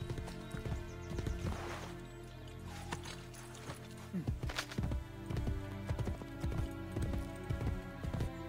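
Horse hooves clip-clop at a steady walking pace over background music in Assassin's Creed Brotherhood, growing more distinct as the horse draws near.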